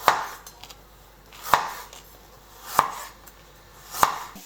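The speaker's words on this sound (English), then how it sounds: "I have cleaned up the carrots and now I'm going to cut up the bigger ones." A knife chops through large carrots in four crisp, evenly spaced cuts, each sharp and close. The chops are alone, with quiet in between and no speech.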